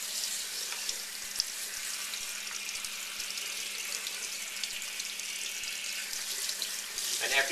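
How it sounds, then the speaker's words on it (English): A steady stream of cold tap water runs into a sink, a constant hiss with occasional faint clinks near the end. "And I have the cold water running."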